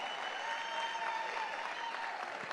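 Audience applause at a spring benefit concert and fundraiser, a steady, even patter of many hands that stays faint and distant throughout, with no talking over it.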